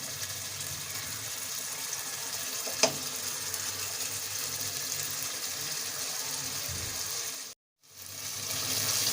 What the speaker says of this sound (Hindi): तेज़ आंच पे इसको अच्छी तरह से चलाएं ताकि इसका पानी खुश्क हो जाए